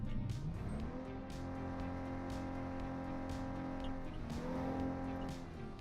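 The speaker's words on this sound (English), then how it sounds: "if we get into the car itself, we can hear the engine a little bit" A car engine in the video game Cyberpunk 2077 drones steadily up close, its pitch dipping and rising with a few revs and a brief tire squeal, no talking.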